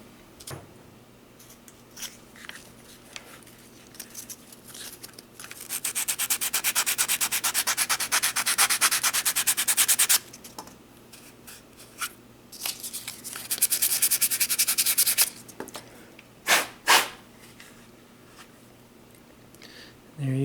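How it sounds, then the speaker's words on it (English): Sandpaper rubbed by hand over the stippled polymer frame of a pistol, in two long sustained bursts of scratchy back-and-forth strokes with quieter handling noises and a few sharp knocks in between. "I'll just run over that with some sandpaper."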